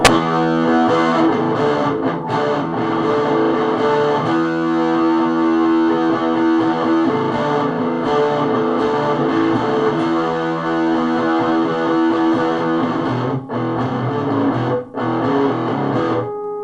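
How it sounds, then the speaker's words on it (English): Heavily distorted electric guitar chugs through thick, sustained chords with a dense, saturated tone, continuous and loud throughout. "Now we've got that real heavy distortion."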